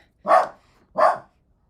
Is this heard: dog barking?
yes